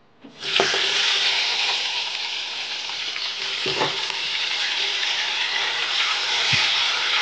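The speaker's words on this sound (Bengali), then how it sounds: "পটলগুলো এবার ভেজে নেবো।" Pointed gourd (potol) dropped into a hot pan of oil, bursting into a loud, sustained hissing sizzle that holds steady with a few clinks of stirring, close and unbroken, with no talking.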